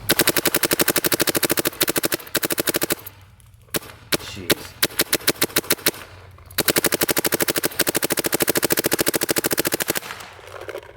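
A Shocker AMP mechanical paintball marker fires in rapid, machine-gun-like strings of sharp pops, loud and close, with a brief lull of scattered single shots before another long burst.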